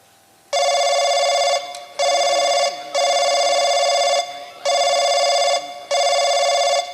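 A telephone ringing on the line after a call is dialed: five loud, close, buzzing rings of about a second each, separated by short pauses, with faint voices murmuring underneath.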